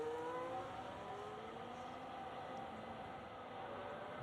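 Sauber Formula racing car running on track at Bahrain pre-season testing in a racing game, a steady engine drone with rising gear sweeps, continuous and moderately distant, with no talk over it.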